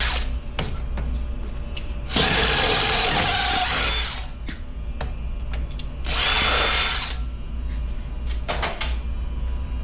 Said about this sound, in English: so we just gotta drill some holes in it.